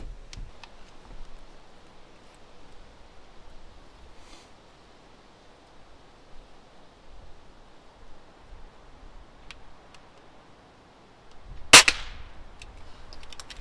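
A single sharp, loud crack from an air gun, either a B3 .177 or a Crosman Vigilante, comes out of quiet outdoor background noise near the end.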